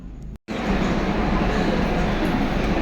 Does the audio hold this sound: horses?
no